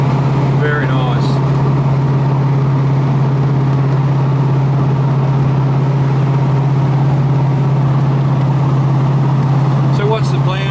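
A restored Holden Commodore VH engine idles steadily with a strong low hum throughout, while people talk nearby over the running motor.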